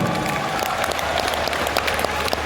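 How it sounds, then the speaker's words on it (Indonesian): Audience applause fills a seminar hall, a dense, loud wash of many hands clapping steadily throughout. "Tepuk tangan buat kita"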